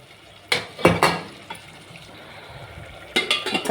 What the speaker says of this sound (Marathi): आता याच्यात टाकू आपण गरम पाणी.